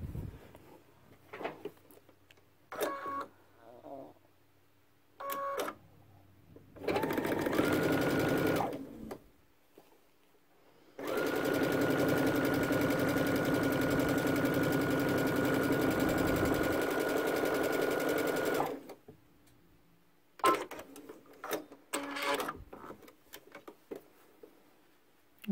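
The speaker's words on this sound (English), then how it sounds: "I'm going to sew a quarter inch" Sewing machine stitching a backpack top flap, running in two bursts, a short one and then a long steady whirring run of about eight seconds, with quieter handling clicks and rustles between them in a quiet room.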